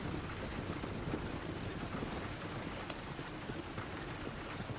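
Horse hooves clop along a road while pulling a wagon in Red Dead Redemption 2, a steady, continuous patter of hoofbeats under a wash of wind and rolling noise.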